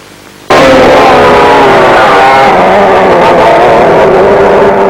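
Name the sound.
McCulloch kart engines racing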